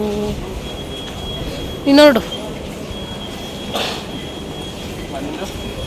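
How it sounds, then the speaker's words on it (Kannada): A continuous low rumble of a Bengaluru Namma Metro train running, with people talking nearby and a short whistle-like tone partway through. "ನಮ್ಮ ಮೆಟ್ರೋ"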